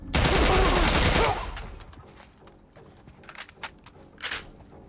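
Assault rifle gunfire in The Last of Us Part I, a loud dense burst of rapid shots for over a second that decays away, followed by a few scattered quieter shots and clicks.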